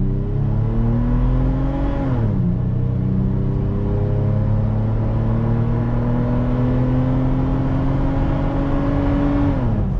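A 2021 Toyota 4Runner TRD Pro with a cat-back exhaust accelerates on asphalt in four-wheel drive, its loud engine climbing steadily in pitch, dropping briefly at a gear change, then rising again through the next gear without any voices.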